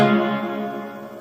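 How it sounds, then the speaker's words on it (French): A spring reverb effect applied to a sustained tonal instrument, heard as one rich harmonic note that decays with a metallic, echoing tail over about a second, fairly loud and alone. "On va mettre une reverb de type spring."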